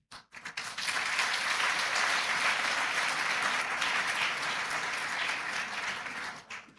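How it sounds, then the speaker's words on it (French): An audience at a genocide commemoration ceremony for the Banyamulenge bursts into dense, sustained applause that swells quickly, holds steady for several seconds, then tapers off. "je vous demande d'applaudir en l'honneur"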